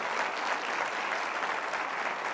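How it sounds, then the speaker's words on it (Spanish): A church congregation bursts into steady applause, a dense, even wash of many hands clapping together that holds for a couple of seconds. "Denle un aplauso al Señor, aquí no se contenga."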